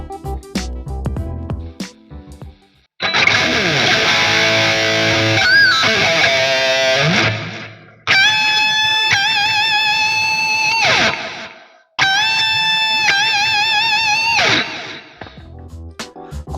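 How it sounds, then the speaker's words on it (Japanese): A guitar played through a BOSS GT-5 digital preamp with distortion, giving harsh, buzzy tones with whistling aliasing overtones that drift unrelated to the notes. Three sustained phrases ring out loud and alone after some quieter picking. "このチャンネルでもよく話題にしている折り返し歪み、不自然な折り返し歪みがふんだんに出てるんですよ"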